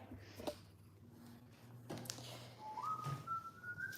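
Someone whistles a thin, steady tone that slides upward and holds, fairly faint against a quiet room with a few soft knocks.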